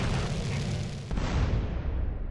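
Rocket launcher explosions in GTA San Andreas DYOM, a dense, roaring blast wash that fills the whole moment, loud and continuous with a sharper burst midway.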